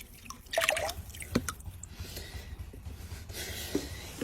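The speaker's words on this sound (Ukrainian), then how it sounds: "ми його додаємо безпосередньо вже в нашу готову тару" Fully soluble organic fertilizer solution is poured into a ready container, giving faint, uneven drips and small liquid splashes with a couple of sharper clicks, no talking.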